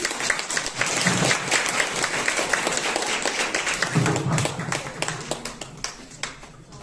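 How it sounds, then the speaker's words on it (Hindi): Steady applause from a group at a birthday celebration, many hands clapping together continuously, close and moderately loud, with faint voices underneath. "तालियों में कमी है बहुत।"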